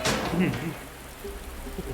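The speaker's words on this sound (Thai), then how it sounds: "ฝนตกซะด้วย" Steady rain in Resident Evil 2 hisses as a dense wash across the whole short stretch, with a voice talking briefly over it at the start.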